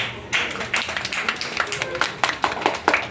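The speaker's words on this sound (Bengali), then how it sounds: "তাই সুসেনের জন্য একটা হাততালি চাই।" An audience clapping at an anniversary event of a music school. The clapping is mixed and rhythmic and moderately close, lasting about three seconds with no talk over it.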